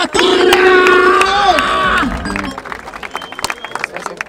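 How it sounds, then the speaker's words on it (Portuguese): A crowd at a rap battle cheers, whoops and applauds loudly, and sharp scattered claps carry on as the cheering fades. "palmas pra batalha!"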